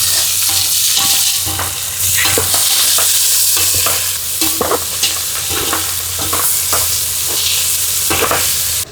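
Sliced onions with mint, coriander and green chilli pieces sizzle steadily in a pan outdoors in a coconut grove, with repeated scraping strokes of a stirring spoon over a continuous loud frying hiss.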